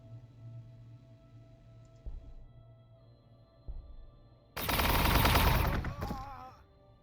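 T'au units open fire in Warhammer 40,000: Gladius. A few soft thumps come first, then a loud, dense burst of rapid gunfire lasts about a second and a half before fading out.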